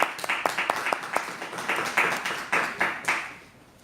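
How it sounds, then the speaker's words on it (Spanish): A church Bible study group gives a round of applause, several hands clapping in a brisk, uneven rhythm for a few seconds before tapering off; no one speaks over it. "vamos a darle un aplauso al Señor"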